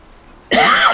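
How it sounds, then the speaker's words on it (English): A single harsh cough erupts suddenly after half a second of quiet room tone, loud and close to the microphone. "Sorry about the coughing."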